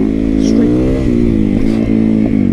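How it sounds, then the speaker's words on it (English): A dirt bike converted into a street-legal supermoto runs close by, its fuel-injected single engine droning and rising in pitch with small revs, loud and steady under someone talking over it. "this is just a raw dirt bike that I turned into a street legal"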